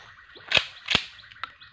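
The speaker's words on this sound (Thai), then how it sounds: "ดูระวังยิง" Two sharp gunshots about half a second apart, followed by a quieter third crack, fired in a shooting demonstration; the reports are close and loud, with no talking.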